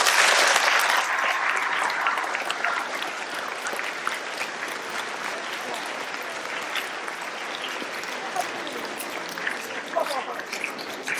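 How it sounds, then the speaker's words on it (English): An assembly audience breaks into sustained applause for a state governor and school superintendent, a loud dense burst at first that settles into steady, even clapping. "Give them an applause."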